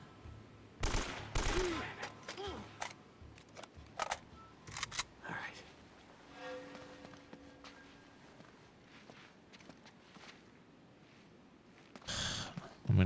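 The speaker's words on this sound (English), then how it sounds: "I can't even see your shots. What are you shooting at?" Gunfire in Uncharted: Drake's Fortune cracks in scattered sharp shots and short bursts, some loud and close, others fainter, with quieter stretches and talk in between.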